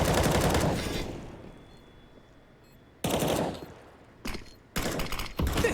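Bursts of automatic gunfire from CS:GO on the Vertigo map during a pro match, a loud rattling volley at the start, then a lull with faint background before several sharp, closely spaced bursts near the end.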